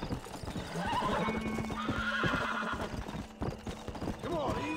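Horse in the Red Dead Redemption game galloping with rapid, close clip-clop hoofbeats, punctuated by a neigh near the end, over outdoor ambience.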